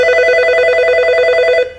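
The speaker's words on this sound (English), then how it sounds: "And the phone's ringing." A telephone rings loudly in a workshop, a steady warbling electronic tone pulsing rapidly for about a second and a half before cutting off abruptly, with no talk.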